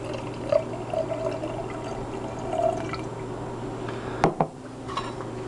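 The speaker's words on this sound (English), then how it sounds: "Alright, take this and we're going to pour it in here." Methoxide is poured into heated oil to make biodiesel: faint liquid trickling and soft clinks of glass and metal containers, then a couple of sharp knocks near the end, with no talking.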